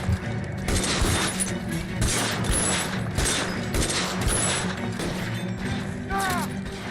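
Dense bursts of rapid gunfire and crashing impacts in the video game L.A. Noire, rolling almost without pause for several seconds, loud and close, with faint voices underneath.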